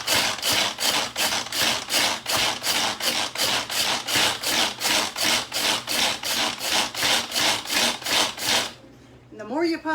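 Hand-pumped chopper crushing graham crackers into crumbs, a steady rhythmic series of about twenty loud, gritty crunching strokes in quick succession, ending abruptly with a brief quieter tail.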